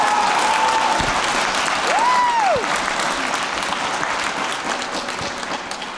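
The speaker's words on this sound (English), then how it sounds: "Give them a huge round of applause." Audience applause at a high school spring concert, loud sustained clapping from a large crowd with a whistle and cheers rising above it early on.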